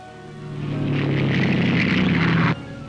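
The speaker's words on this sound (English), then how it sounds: "Planes like this airspeed ambassador," Airspeed Ambassador propeller airliner flying past, a droning engine roar that builds over the first second, holds loudly with a rushing hiss, then cuts off abruptly near the end.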